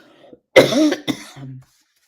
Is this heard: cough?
yes